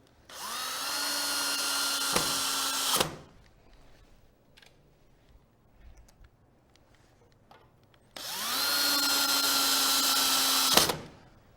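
A power drill drives mounting screws into a wall box in two bursts of about three seconds each, a loud whining motor that ramps up and stops, separated by quiet handling noise.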